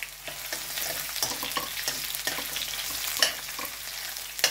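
Chopped spring onions sizzle and crackle in a hot wok for an Asian vegetable stir-fry, with steady frying hiss broken by repeated scraping stir strokes at close range, no voices.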